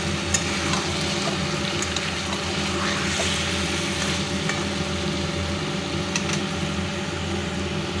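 Broccoli stalk chorchori curry frying in a pan as it is stirred, a steady close sizzle with soft scraping running unbroken throughout, with no voices.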